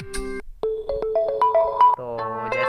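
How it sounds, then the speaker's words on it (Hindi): A melodic ringtone plays from an OPPO K3 phone speaker, a bright sequence of electronic tones that steps through several clear notes and ends on a lower chord, loud and close with no talking. "रिंगटोन पे क्लिक करते ही जैसे कि आप देख सकते हैं यहाँ पे बहुत सारा रिंगटोन मिल चुका है।"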